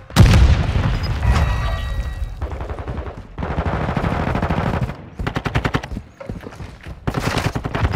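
An AK47 fires in Call of Duty: Modern Warfare II, with loud, close bursts of rapid automatic gunfire broken by short pauses and a heavy boom near the start.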